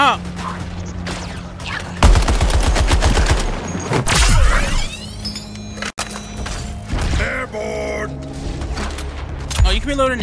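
Gunfire from Suicide Squad: Kill the Justice League: loud rapid bursts of automatic shots and heavy booming impacts amid game effects and music, with players talking over the action.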